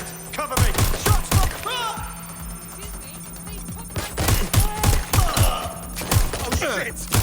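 Bursts of gunfire ring out in the Watch Dogs Legion video game, rapid sharp shots in clusters with short gaps between volleys, loud and close, and a voice talking in between.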